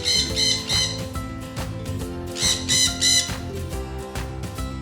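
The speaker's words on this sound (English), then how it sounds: "Parrot, parrot." A parrot lets out two clusters of shrill, close squawks, with a quieter gap between them, over steady background music.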